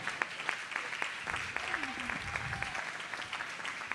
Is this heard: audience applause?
yes